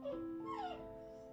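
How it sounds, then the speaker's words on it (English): A dog being babysat indoors gives a single short, high whine that rises and bends downward, faint and in the background of a quiet room. "if you hear whining in the background, I'm babysitting someone's dog today"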